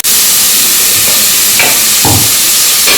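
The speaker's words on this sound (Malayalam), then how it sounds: "സവാള ഇട്ട് കൊടുക്കുന്നുണ്ട്." Onions fry in a pot for Palakkad Rawther beef biryani, a very loud, close, steady hiss and sizzle broken by a few brief stirring scrapes.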